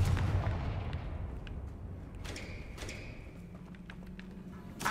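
A Confringo blasting spell goes off in Hogwarts Legacy, a dense booming blast with a sharp burst around the middle, followed by lingering rumble and a faint tonal hum over a steady game background.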